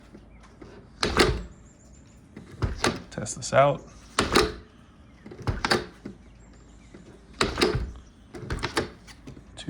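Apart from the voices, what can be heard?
exterior door with deadbolt and knob opening and closing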